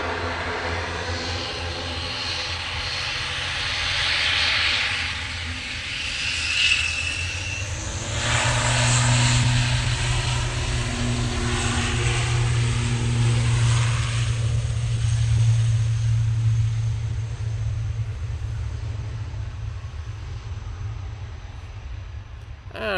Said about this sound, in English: prop coming out in front of us. It's off to Belfast. Using the ATR 72